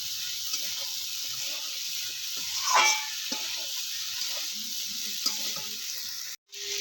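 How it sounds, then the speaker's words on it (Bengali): Chopped ridge gourd and spices stir-fry in a pan, giving a soft continuous sizzle with a brief scraping stir near the middle and a short break near the end, close but quiet. "এবার সব কিছুর সাথে আমি ভালো করে এটা কষিয়ে নেব"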